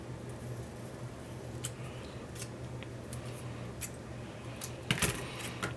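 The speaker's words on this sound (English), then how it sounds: "take the washi and actually cut a strip in half so that I have one that's not as wide" Scissors cut a strip of washi tape in half at a planner desk, a few faint, quiet snips spread over a low steady background hum, with a slightly louder clatter near the end.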